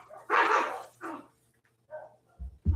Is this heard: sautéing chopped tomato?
no